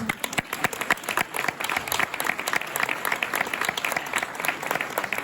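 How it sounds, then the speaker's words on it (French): Applause from a concert audience after a Catalan song performed with a cobla band, dense steady clapping filling the space at moderate distance, with a few louder individual claps standing out. "vous pouvez les applaudir très fort"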